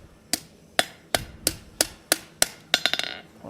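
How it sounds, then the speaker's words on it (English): Hammer striking an iron latch piece against an anvil horn during forging: eight sharp ringing blows at a steady pace, closing with a quick flurry of lighter, rapid taps, close and clear with no talk. "You're hitting off the edge of the anvil here, off the edge of the horn, just to roll this piece out."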